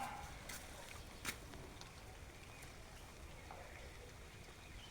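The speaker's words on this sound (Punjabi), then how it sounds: "ਸਾਡੇ ਆ ਰਿਹਾ ਮੀਂਹ" Steady, diffuse patter of rain falling continuously, with occasional sharper drops and faint background noise, no talk.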